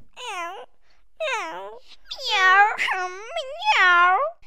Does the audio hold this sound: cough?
no